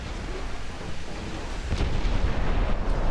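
Heavy warship broadside gunfire in a naval combat game, a dense continuous rumbling roar that swells louder partway through, with no clear separate shots.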